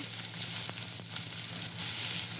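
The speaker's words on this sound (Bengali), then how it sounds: "এই তো তেল দিয়ে দিলাম এর মধ্যে কিছু পেঁয়াজ কুচি" Chopped onions frying in hot oil for chicken biryani make a close, even sizzle, with faint crackles running steadily throughout.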